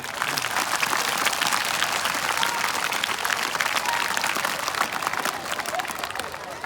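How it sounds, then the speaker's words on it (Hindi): Audience of schoolchildren at a school event clapping in a dense, sustained round of applause that fills the whole stretch at even loudness. "तालियां कमजोर है भाई मेरे बच्चों की।"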